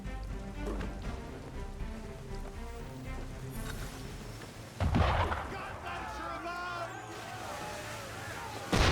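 Ship cannon fire in Assassin's Creed III, two heavy booming blasts midway and at the end over rain-like ambience and music, with voices talking beneath.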